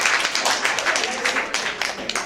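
Dense, steady applause from an audience at a sorority chapter's 2019 hypnosis show, a continuous crackle of many hands clapping close by with no pauses.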